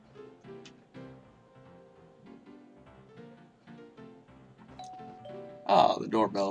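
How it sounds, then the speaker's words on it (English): Doorbell in the Dreamcast game Rent A Hero No. 1, a short bright chime near the end, under someone talking through most of the clip. "Ah, the doorbell rings."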